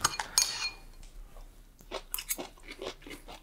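Light clinks of a fork against a dish, followed by crunchy chewing and scattered small scraping sounds, close and quiet.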